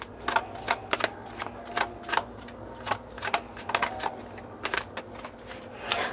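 Tarot cards are shuffled for a reading in a run of quick, crisp riffles and soft flutters, each burst short and close, repeating in an uneven rhythm with no voices.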